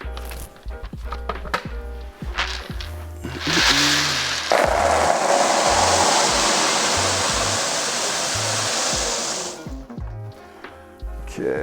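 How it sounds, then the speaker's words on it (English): Small balls tumble out of a large volume-measuring cylinder marked in liters, making a sustained rushing rattle for several seconds, with scattered knocks and thumps before and after the pour. "Okay, so we'll pour out those balls."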